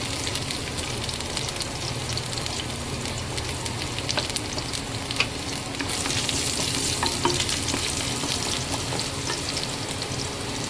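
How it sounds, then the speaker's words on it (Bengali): Chopped garlic frying in hot oil with dried red chillies in a pan, a dense continuous sizzle with constant stirring scrapes, close and even for the whole stretch. "এরপর দিয়ে দেব আমি রসুন কুচি।"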